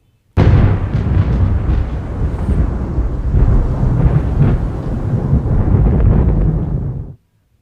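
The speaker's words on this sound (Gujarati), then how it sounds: "મોડાસા સહિત અન્ય વિસ્તારોમાં વરસાદી ઝાપટા પડ્યા છે।" A thunderstorm with rain showers over Modasa in Gujarat's Aravalli district: a loud, continuous roar of thunder and rain begins abruptly and rumbles deep and steady for about seven seconds before cutting off.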